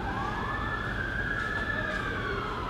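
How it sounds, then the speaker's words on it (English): A siren wails steadily in the distance, its tone sweeping up and down over low traffic rumble, with no voices. "There's sirens. That's the sweet sound of home."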